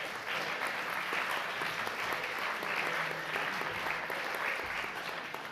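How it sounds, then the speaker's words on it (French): An audience at an award presentation for François Hollande breaks into sustained, even applause, a dense crackle of many hands clapping that holds steady at moderate volume throughout. "je vous demande d'applaudir chaleureusement"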